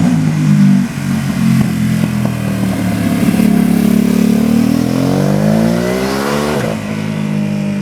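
A Ducati Supersport S motorcycle ridden hard through tight twisty roads on smooth hot-mix asphalt, its engine loud and close, revving up and down with sweeping gear changes and no talk.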